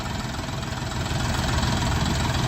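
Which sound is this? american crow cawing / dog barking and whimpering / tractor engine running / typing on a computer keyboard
tractor engine running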